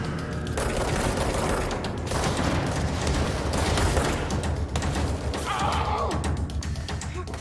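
Dense, continuous gunfire and booming explosions in a video game, loud and sustained across the whole stretch with rapid overlapping shots.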